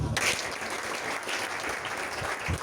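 A church congregation bursts into loud, sustained applause, dense clapping that fills the room from start to finish, with voices faintly mixed in.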